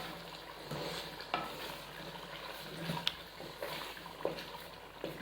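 Peeled tomatoes are stirred and fried in a pan for karahi, with soft scraping strokes over a low, close sizzle and a few sharper clicks scattered through.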